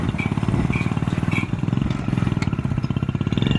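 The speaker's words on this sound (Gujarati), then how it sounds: "મોટરસાઇકલ રિવેસમાં પણ હાલે ને આગળ હાલે ને પાછળ હાલે" Motorcycle converted for farm work with a reverse gear, running close by with a steady, rhythmic chugging putter and some mechanical clatter.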